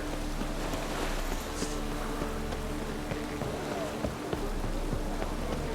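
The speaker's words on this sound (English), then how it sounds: "Looks like rain." Steady rain falling in The Witcher 3 video game, a constant close hiss and patter that runs through the whole stretch with a low droning background and a few faint clicks.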